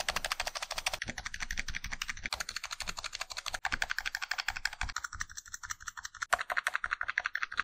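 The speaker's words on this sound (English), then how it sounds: "I did a preliminary sound test between switches with and without the stabilizer wire." Keys click and clack at a steady, fast rhythm as someone types on a Razer Huntsman V2 TKL keyboard, testing switches with and without the stabilizer wire, close up and without voices.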